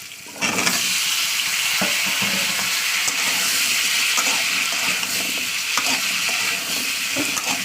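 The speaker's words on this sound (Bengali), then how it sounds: "আলুটাকে আমি দু মিনিট ধরে ভাজা করবো তেলের উপরে" Sliced potatoes dropped into hot oil over already-fried onions in a home kitchen pan, a loud, steady sizzle and crackle that starts abruptly and continues with occasional stirring scrapes.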